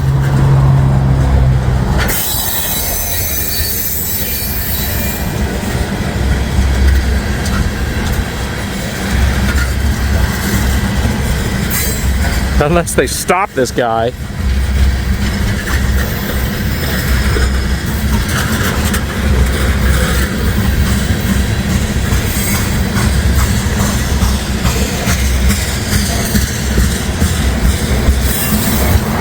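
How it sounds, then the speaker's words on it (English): An ethanol freight train from Bensenville, Illinois, bound for Tampa, Florida, rolls past in a loud, steady rumble of wagons and wheels that lasts throughout, with a brief sharper burst midway and a few quick spoken words. "this ethanol train comes out of Bensenville, Illinois, usually Chicagoland area, and then heads down to Tampa, Florida"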